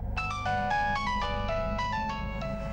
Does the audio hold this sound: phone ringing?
yes